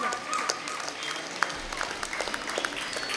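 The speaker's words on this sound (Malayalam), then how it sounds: "എല്ലാവരും കൈയടിച്ചൊന്ന് പ്രോത്സാഹിപ്പിക്കണേ." An audience at a residents' association Onam celebration applauds during a scholarship awards function, with scattered sharp claps spread over a few seconds, moderately loud, and no speech.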